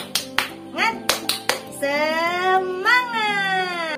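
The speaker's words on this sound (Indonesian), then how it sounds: "kita tingkatkan semangat kita dengan tepuk semangat" Schoolchildren in an Indonesian classroom perform the tepuk semangat clapping chant: a run of sharp, rhythmic handclaps, then voices chanting together in a drawn-out, sung tone, close and fairly loud.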